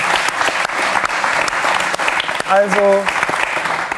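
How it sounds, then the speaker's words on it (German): Studio audience at the SWR Nachtcafé talk show breaking into loud, sustained applause close by, with a brief spoken word and a short voiced sound partway through. "von den Gästen hier im Nachtcafé bekommen Sie spontan Applaus."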